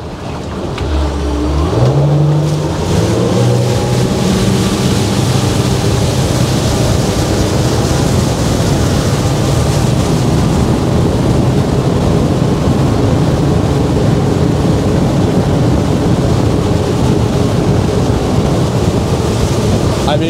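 An Eastward 24 catamaran motorboat accelerating at full throttle in single throttle mode, engine roar climbing and then holding as a loud, steady rush of engine, wind and water throughout.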